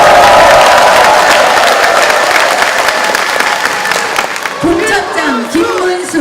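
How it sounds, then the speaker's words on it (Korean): A large audience at a political party election rally applauds loudly with some cheering, the clapping thinning out as a voice begins speaking over it near the end. "큰 박수 한번 다시 보내주시기 바랍니다"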